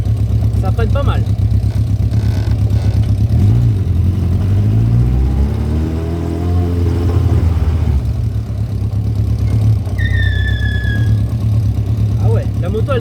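A Yamaha XJ600 motorcycle engine hums steadily, rising and falling in pitch as it revs, with a rider talking over it and a brief high squeal as the rear brake locks and the bike slides.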